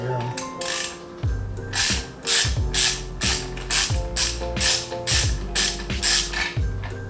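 A ratchet wrench clicks steadily in quick repeated strokes while a Moons motorcycle headlight is fitted, loud and close, the ratcheting rhythm broken by short pauses between pulls, with faint background sound underneath.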